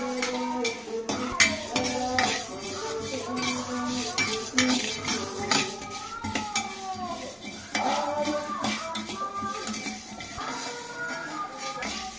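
Spices dry-roasting and being stirred in a pan while making chicken pickle, with steady clinks and scrapes of a metal spoon against the pan and a faint sizzle, close and continuous.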